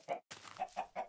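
A chicken in the video game Minecraft clucks in short, quiet bursts, four or five clucks in an uneven rhythm with a brief silent gap near the start.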